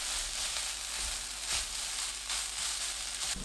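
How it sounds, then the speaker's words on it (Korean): Seaweed stems sizzle steadily in a hot pan as perilla seed powder is stir-fried into them, giving a close, continuous crackle with soft scraping stirs and no talking. "들깨가루 1큰술 넣고 30초 볶습니다."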